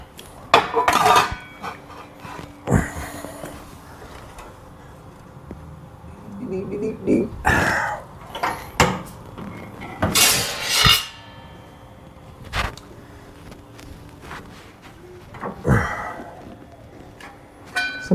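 Sheet metal for a chopped 1936 Ford roof is bent by hand and then in a brake, giving scattered loud metallic clanks and bangs. Someone talks throughout the work.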